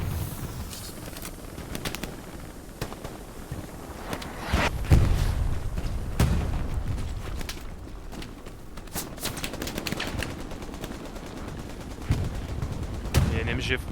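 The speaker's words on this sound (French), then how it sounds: "Il y a une MG frontale là." Machine gun bursts and scattered gunshots from the Hell Let Loose battlefield crack in uneven clusters, some close and loud, others distant, over a constant rumble of combat.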